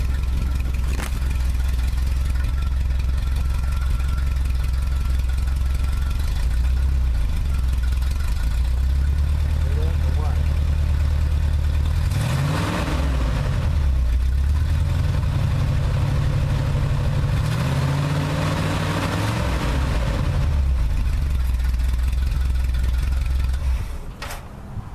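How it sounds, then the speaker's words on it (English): A freshly rebuilt car engine, suspected of a stuck or burnt valve, idles with a rough, steady low rumble, then revs twice under gas in swelling bursts before settling back to idle. "I want y'all to listen when I give it the gas."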